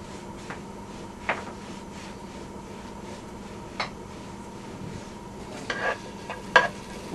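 Garlic sautéing in a little oil in a pot, a quiet steady sizzle with a few sharp clinks and scrapes of a utensil stirring against the pot.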